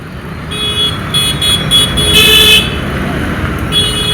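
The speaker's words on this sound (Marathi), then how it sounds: "सगळ्या इकडे ट्रॅफिक झालेली आहे." Road traffic jammed near a railway gate, loud street noise with a continuous engine rumble and short repeated high horn toots from vehicles, heard close and busy.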